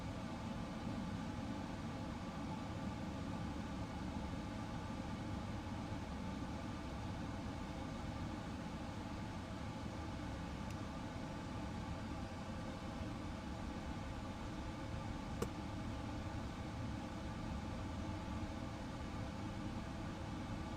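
Steady, even roar of PMDG 777-200ER jet engines spooling at idle in the MSFS 2024 flight simulator, a constant hum with no speech and barely any change across the stretch.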